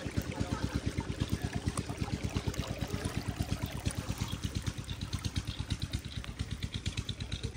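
Water gushes out of a pipe fed by a motor pump into a farm field, a loud continuous rushing flow with a rapid rhythmic pulsing from the running pump motor underneath.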